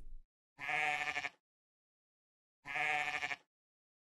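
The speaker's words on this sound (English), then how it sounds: "goat," Two loud, wavering bleats, each about a second long, separated by a pause of silence.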